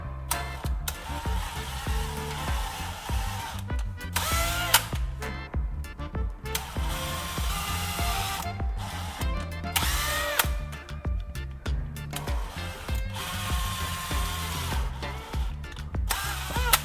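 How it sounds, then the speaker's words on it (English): A power drill bores a series of holes into a wooden board, running in steady bursts with short pauses and restarts between each hole, loud and close with whirring motor tone and grinding bite. "Once marked, I'll drill holes at each point."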